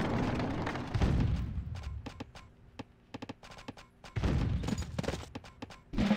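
Units open fire in the real-time strategy game Rise of Nations, a rapid burst of sharp shots and booming thuds between louder rumbling stretches of heavy battle noise.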